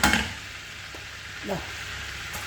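Garlic frying in butter in a pan, a steady soft sizzle under the whole stretch with a brief stir or clink near the start and midway.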